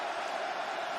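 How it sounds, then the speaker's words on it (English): A deafening stadium crowd roars during an NFL broadcast of a Bears vs Rams divisional round game, a dense, steady wall of noise that holds loud and unbroken throughout. "deafening crowd"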